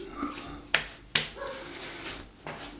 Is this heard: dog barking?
yes